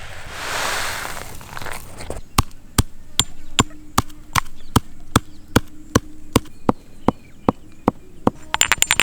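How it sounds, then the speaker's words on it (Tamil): Steady rhythmic pounding of roasted fennel, pepper and cumin in a mortar, sharp regular thuds about three per second, closely miked, with a rapid flurry of strikes at the end. "வறுத்து வச்ச சோம்பு மிளகு சீரகம் சேர்த்து இடிச்சுக்கலாம்"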